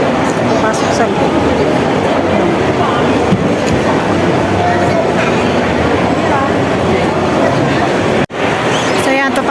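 A ride-on train at a Pacific Place Christmas display in Central, Hong Kong rumbles and clatters steadily, loud and close, amid busy crowd noise, with a brief dropout near the end.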